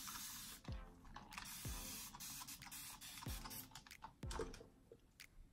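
A spray bottle mists water onto hair in four or five quick, hissing bursts spaced about a second apart, each starting with a soft trigger click, close and fairly quiet with no talking.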